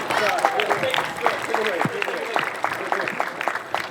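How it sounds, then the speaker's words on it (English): Audience applause for educators at a school moving-on ceremony, a steady crowd clapping that fills the clip with a few voices calling out over it. "So I would like to give a round of applause to them."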